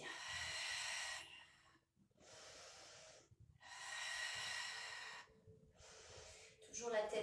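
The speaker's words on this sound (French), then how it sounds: "Inspire et expire." Slow, deep breaths during a back-strengthening Pilates exercise: four long, close, airy inhales and exhales alternating with short pauses.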